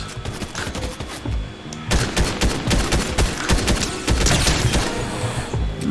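Rapid gunfire in a first-person shooter video game, dense bursts of automatic shots rattling continuously and loudly, with a sharper surge of heavier firing midway and no talking over it.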